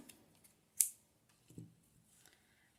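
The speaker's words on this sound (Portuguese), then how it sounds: "agora eu vou cortar o fio" Scissors snip crochet yarn for an amigurumi carrot keychain: one sharp close cut stands out in a quiet room, followed by a few faint handling rustles and clicks.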